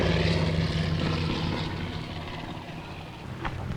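A propeller-driven firefighting aircraft drones past with a broad, steady engine roar that slowly fades, heard alone without talk.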